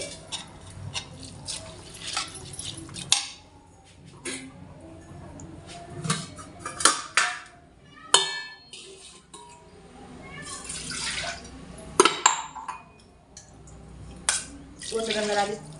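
Water poured and splashing over basmati rice soaking for chicken biryani, irregular bursts of trickling and splashing with small knocks between pours, close by.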